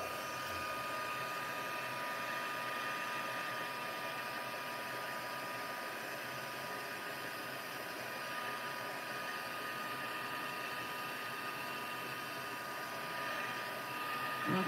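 A heat embossing tool blows hot air in a steady, unbroken whoosh for the whole stretch, a constant fan-like hiss at moderate volume during a card-making stamping project.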